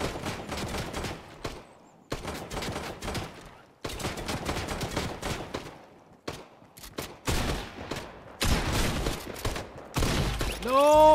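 Rapid shotgun and gunfire blasts from a Fortnite match on Nintendo Switch, loud bursts in clustered runs separated by short gaps, ending in a burst of game effects.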